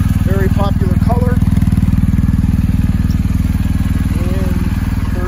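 A 2020 BMW R1250GSA motorcycle's engine idles with a steady, loud rhythmic thrum throughout, while someone talks briefly over it.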